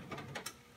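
A wrench tightens down the cap of an EMF rebuildable uniball, making a few quick, faint metallic clicks and ratcheting taps up close in less than a second.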